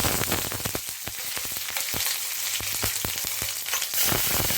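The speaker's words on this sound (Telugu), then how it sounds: "పచ్చిమిర్చి వేసేస్తాయి ఇప్పుడు." Green chilies frying in hot oil, a steady close sizzle with bursts of crackling spatter throughout, and no voices.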